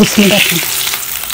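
Half green chilies coated in a thin maida batter fry as pakoras in hot oil, giving a loud, continuous close-up sizzle. A short spoken word is heard at the start.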